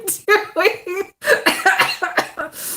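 Coughing mixed with laughter comes in short, breathy bursts from a close voice, with several spaced fits over a few seconds.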